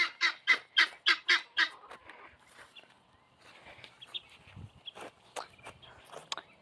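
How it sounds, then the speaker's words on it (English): Guinea fowl give alarm calls in a farmyard with chickens, a rapid series of about six loud, harsh squawking cries in steady rhythm, then scattered fainter clucks and rustling footsteps. "Guinea alarm! Guinea alarm!"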